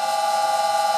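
An old Karger lathe runs at 600 RPM, its highest speed, with some vibration, giving a steady, close mechanical hum with a sustained tonal whine throughout.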